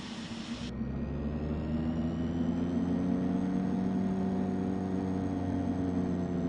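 A DHC-6-300 Twin Otter's right turboprop engine starts up in Flight Simulator X: a short higher whine, then a steady, loud droning hum with layered tones that holds evenly throughout.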